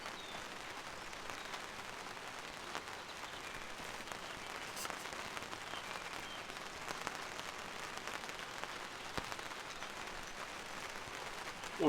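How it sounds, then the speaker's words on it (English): Gentle rain patters on a tent tarp during car camping, a soft continuous crackle of scattered drops with occasional louder taps, fairly quiet throughout. "It's a lovely sound, the rain."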